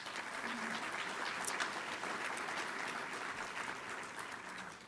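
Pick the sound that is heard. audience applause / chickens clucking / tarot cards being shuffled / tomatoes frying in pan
audience applause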